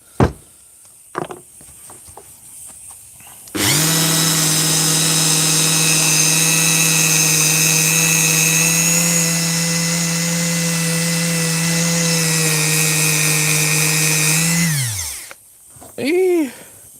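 Dremel rotary tool polishing a small delicate piece: a sustained, loud, steady high whine close up lasting about eleven seconds, starting and stopping abruptly, with brief handling noises and a short voice before and after.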